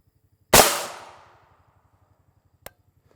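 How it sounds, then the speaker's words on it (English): A single loud, sharp rifle shot of M855 ammunition strikes an RTS Tactical Level IIIA mini shield, its blast decaying over about a second, followed by a faint click; a low regular ticking runs underneath. "So this is the second shot of M855."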